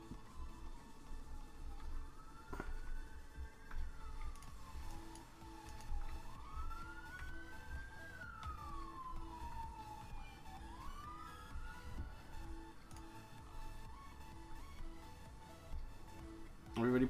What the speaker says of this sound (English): all I've heard the last couple of days is bloody sirens going off